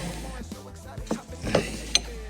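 A hand tool clicks and ratchets while turning a grimy bolt on a Renault car, with a few sharp metallic ticks and scrapes close up and no talking.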